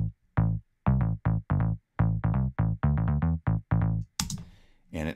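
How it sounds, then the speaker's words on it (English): A trance top bass synth plays short, punchy plucked notes in a choppy rhythmic pattern, loud and dry, ending with a brief noisy burst. "the top bass. It sounds like this."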